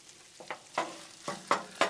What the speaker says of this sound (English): Start cooking them down just a little bit, because grilled onions is better than raw onions